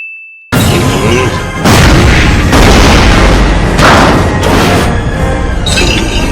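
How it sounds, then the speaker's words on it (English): In the anime Fullmetal Alchemist: Brotherhood, a tank shell blasts with heavy, very loud booms and crashing impacts that follow one another after a brief high tone, filling the whole stretch with dense roaring noise. "the tank's shell was able to really blast him backwards"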